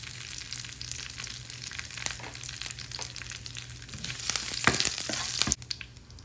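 Dried red chillies frying in hot oil with mustard seeds and curry leaves for a jackfruit stir fry, a steady close sizzle with crackles and pops that grow busier toward the end.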